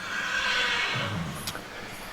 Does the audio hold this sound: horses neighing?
yes